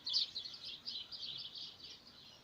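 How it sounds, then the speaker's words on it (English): Small birds chirp in a steady run of high, quick calls, moderately near but soft, with no talk over them. "You know those birds started"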